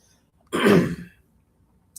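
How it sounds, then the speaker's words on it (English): A single short throat clearing, close and fairly loud, in an otherwise quiet room. "you're gonna hear me clear my throat a few times"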